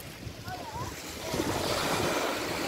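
Sea waves wash onto a pebbly beach on the northern Adriatic coast in Italy, a steady broadband rush that swells slightly midway, with wind noise over the microphone and no talk.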